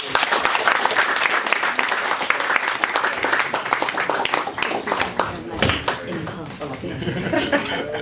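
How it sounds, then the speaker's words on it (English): Sustained crowd applause at a youth mind-sports championship closing and medal ceremony, dense steady clapping filling the room with scattered chuckles and voices mixed in, tapering slightly toward the end. "Another round of applause for these guys."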